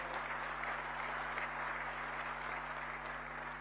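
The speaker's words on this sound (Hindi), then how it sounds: "आपको फिर से ताली बजानी पड़ेगी।" Steady applause from the audience at an annual conference of relief commissioners and disaster forces, faint and distant-sounding with a constant low hum underneath.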